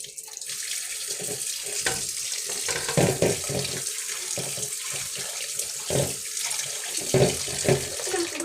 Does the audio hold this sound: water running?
yes